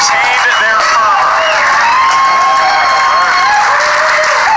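Live audience at the Movie Trivia Schmoedown event breaking into loud, steady applause mixed with cheers and whoops, close and continuous throughout.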